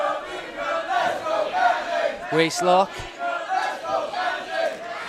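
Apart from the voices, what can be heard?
wrestling crowd cheering and shouting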